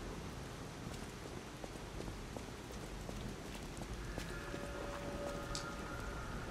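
Steady rain on a rainy night at Central Station Plaza in the video game Lies of P, an even wash of falling drops with a few faint scattered taps and no voices.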